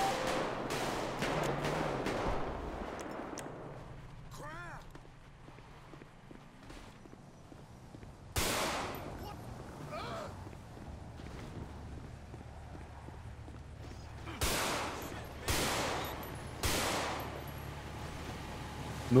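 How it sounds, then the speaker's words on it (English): Gunshots ring out in the FivePD police mod for GTA V: a rapid burst of shots at the start, then scattered single loud cracks later, with footsteps and quieter background activity between them. "10-4. Shots fired."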